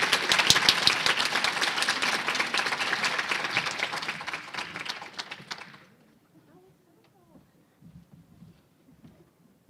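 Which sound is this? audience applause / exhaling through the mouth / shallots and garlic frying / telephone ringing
audience applause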